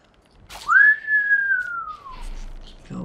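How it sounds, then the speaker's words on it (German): A character in the video game Shadow of the Colossus gives a single loud, clear whistle, a long sustained tone that slowly falls in pitch over about a second and a half, with no talk over it. "dass er aber x-mal pfeifen muss"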